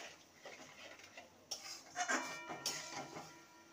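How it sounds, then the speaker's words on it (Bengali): Schezwan chutney mixture is stirred in a pan, a quiet sizzle under a run of clinking spatula scrapes that grow busier and louder partway through. "ভালো করে নেড়ে নেব।"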